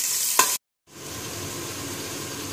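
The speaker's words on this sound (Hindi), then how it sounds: "फिर उसे थोड़े गोल्डन ब्राउन होने तक भूनेंगे।" Chopped onions frying in a pan for sambhar, an even close sizzle with a short break midway and a faint stirring tap before it.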